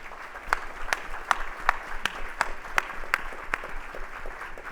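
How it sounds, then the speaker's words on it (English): Audience applause for panelists at the close of an economic outlook keynote at a business expo, a roomful of clapping beneath a steady run of sharp, distinct claps close by, rhythmic and moderately loud. "let's give our panelists a big round of applause"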